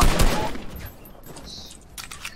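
Rapid bursts of video game gunfire, a dense crackling volley loudest at the start that thins out into scattered shots and clicks, fairly quiet overall with no talk.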